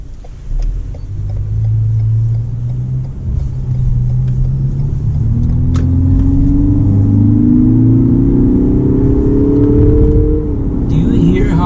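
From inside a 2019 Lexus NX300 F-Sport, a deep engine rumble builds and rises in pitch as it accelerates, loud and steady with a faint voice underneath.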